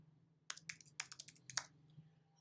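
Quiet tapping and clicking of typing on a keyboard, a short irregular burst of keystrokes in close succession before trailing off, faint against a low hum.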